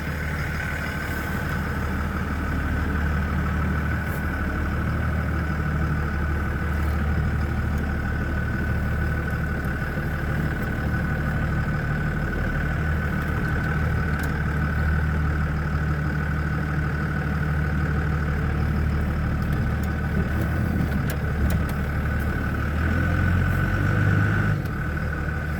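A 2002 Cummins diesel in a 2nd-gen two-wheel-drive pickup runs steadily while the truck is driven, a continuous low engine drone with a constant whine above it, loud and close throughout with no talk.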